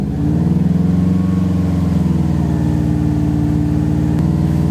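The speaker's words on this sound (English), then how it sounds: "increase the engine speed to 2500 RPM and hold" Car engine held at a steady raised idle around 2500 RPM during a battery charging system test, a continuous loud, even hum with no talk.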